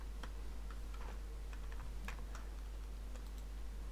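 Commands being typed on a computer keyboard for Minecraft cheats: quiet, irregular clicking keystrokes in a steady stream over a constant low hum, with no talking.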